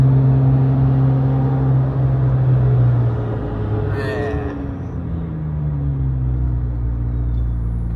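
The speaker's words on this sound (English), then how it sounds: "It's so crazy actually driving a Z06, man." A Corvette Z06's engine is heard from inside the car while driving, a low, steady rumbling drone whose pitch shifts slightly midway, with a faint hum underneath.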